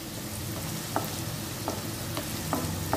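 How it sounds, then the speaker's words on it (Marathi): Onion sautéing in oil for a Malvani-style egg curry, a steady close sizzle with a few soft stirring knocks, no talk. "कांदा तेलात मऊ होई तोपर्यंत परतून घ्यायचा आहे।"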